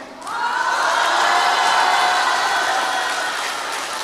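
Audience clapping together at a talk on health and wellbeing, a dense, steady wash of applause that swells quickly and holds loud for several seconds before easing slightly, with a faint crowd murmur.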